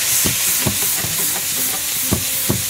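Tomatoes seasoned with salt and pepper are stirred in a hot pan for meatball pasta, a loud continuous sizzle punctuated by about six rhythmic scraping strokes of the spoon.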